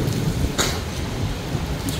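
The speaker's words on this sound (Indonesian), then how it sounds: "hujan deras seperti ini ya kondisinya." Steady, heavy rainfall in a storm in Mecca pours with a constant hiss and low rumble, broken by a few brief splashy bursts.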